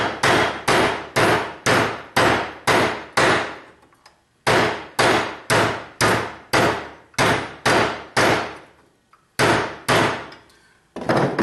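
A sledgehammer pounds a sterling silver dinner knife handle in steady bursts of sharp metallic clangs, about a dozen loud blows in rapid runs separated by brief pauses, each ringing out close and alone.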